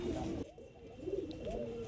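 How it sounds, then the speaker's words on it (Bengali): Domestic pigeons, several pairs of fancy breeds kept by a seller, coo in low, steady murmuring tones close by, with a brief lull before the cooing swells again. "এই 3 জোড়া কবুতর নিতে পারবেন"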